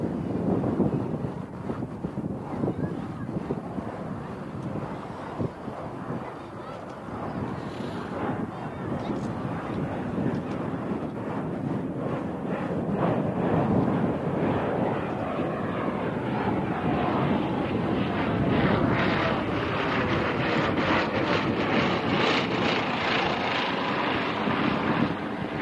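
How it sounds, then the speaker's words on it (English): A Corsair fighter's piston engine roars loud and steady as it takes off at an autumn airshow at Duxford, with wind buffeting the microphone and the engine note swelling toward the end. "as the little pitch lands, so the mighty Corsair gets airborne"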